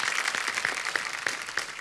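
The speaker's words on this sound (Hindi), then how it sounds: "एक बार वागले की दुनिया की पूरी स्टार कास्ट के लिए जोरदार तालियां" Audience applause for the full star cast of the TV show Wagle Ki Duniya, a steady dense patter of clapping from a studio crowd, fairly even and moderately loud throughout.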